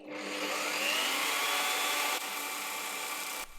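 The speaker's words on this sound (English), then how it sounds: "I used a rotary drum sanding thingy that I used to clean the curved side on the bedside table before." A rotary drum sanding tool spins against plywood edges, a continuous high whirring grind that stays level, briefly dips near the end and cuts off, close and alone without speech.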